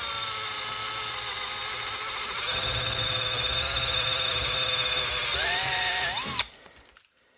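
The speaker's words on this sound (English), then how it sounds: "I take a 3/16 drill bit and I run it inside all the way through." Power drill spinning a 3/16 drill bit through a 3/16 brake line on a Ford Ranger, a loud sustained high whine that holds steady, dips in pitch near the end, then stops and winds down.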